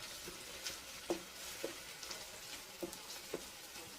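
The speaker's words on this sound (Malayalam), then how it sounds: "പേസ്റ്റ് ഇതിലിട്ട് നല്ലപോലെ ഇളക്കണം." A paste of garlic, ginger, onion and green chilli sizzles softly in a pan while being stirred, with a steady low frying hiss broken by several distinct scraping strokes of the spoon, no voices.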